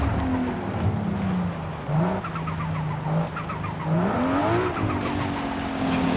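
Audi RS6 or RS3 racing in Forza Horizon 5, engine revving and sweeping through gear changes with pitch climbs and drops, tires squealing in bursts over continuous road noise.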